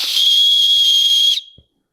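A whistle built into a backpack chest strap gives one loud, piercing blast of over a second that cuts off abruptly, followed by a faint low thump.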